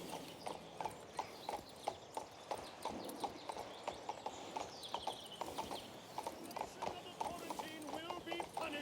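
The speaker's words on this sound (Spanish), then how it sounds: "Voy a montar en el caballo, si podéis ir rápido" Rhythmic clip-clop of horse hooves at a steady riding gait in the King's Bounty II fantasy video game, close and fairly loud, with someone speaking over the hoofbeats.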